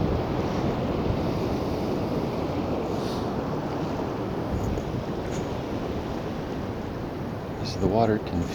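Ocean surf at Foz do Lizandro beach in Ericeira, Portugal, a continuous broad wash of waves with wind buffeting the microphone, steady and fairly loud throughout.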